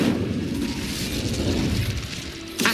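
An Incendio fire spell from Hogwarts Legacy bursts out in a roaring, rumbling blast of flame that stays loud throughout, ending with a sharp, bright swell.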